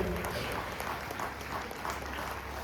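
An audience at the opening of a historical stage play in Khajipalem claps in thanks to the performing artists, a steady moderately faint patter of many hands with no voices.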